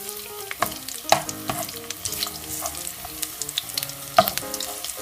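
Chopped garlic sizzles steadily in hot oil in a frying pan, with scattered clicks and light stirring scrapes over a continuous close, crackling fry and no voices.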